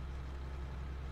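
A truck's engine hums low and steady in the ArmA 3 video game, a faint, distant drone with strong rumbling low tones and no voices over it.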